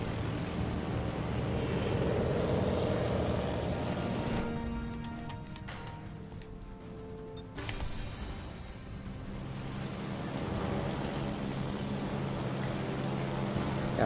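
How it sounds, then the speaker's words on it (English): Bomber squadron aircraft in the naval video game World of Warships: Legends, a steady droning engine roar that swells and dips, fairly faint, with a brief quieter stretch in the middle and no talk. "Got full squadron bombers here."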